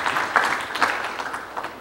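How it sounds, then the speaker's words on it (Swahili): An audience applauds in honour of the Jairuti company, a short burst of dense clapping with a few sharper claps standing out, moderately loud and steady throughout. "Makofi kwa kampuni ya Jairuti."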